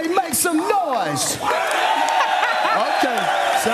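A large stadium crowd at a College GameDay broadcast in College Station, Texas, cheers and whoops loudly and continuously, a dense roar with yells and shrill whistles rising throughout.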